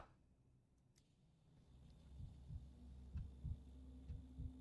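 A faint, low heartbeat sound effect in a video game thumps in steady paired beats over a quiet hum, growing slightly stronger as it continues, with no talk.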